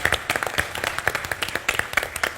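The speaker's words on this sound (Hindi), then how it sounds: "जोरदार तालियां फॉर बीइंग अ स्पोर्ट।" Audience claps at a live Indian comedy show, a thin scattering of quick, uneven claps repeating steadily at moderate volume without talk over them.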